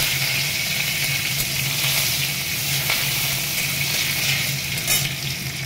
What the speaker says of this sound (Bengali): এবারে দিয়ে দিচ্ছি সর্ষে, মেথি, জিরে, শুকনো লঙ্কা ফোড়ন